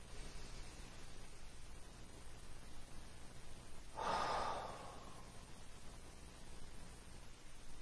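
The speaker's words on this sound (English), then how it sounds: "Let's just do a couple of just kind of blow it out breaths." A single breath blown out through the mouth, a short airy rush that rises and fades within a quiet room, heard alone.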